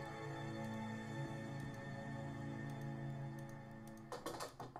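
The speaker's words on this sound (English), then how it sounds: "Look how loud her keyboard is." Light, irregular keyboard typing clicks in the game Nancy Drew: The Deadly Device, over a steady humming background tone, ending in a quicker flurry of louder keystrokes.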